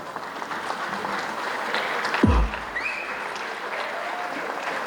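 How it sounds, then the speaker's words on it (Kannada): An award ceremony audience rises to give a standing ovation, producing a steady wash of clapping that sounds faint and somewhat distant, broken by one brief low thump. "ದಯಮಾಡಿ ಎಲ್ಲರೂ ಎದ್ದು ನಿಂತು ಒಂದು ಚಪ್ಪಾಳೆ ಕೊಡಬಹುದಾ?"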